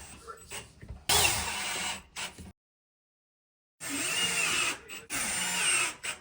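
Power drill drives 3-inch exterior screws into a wooden handrail base, several loud close whirring bursts with brief pauses and one full stop in the middle.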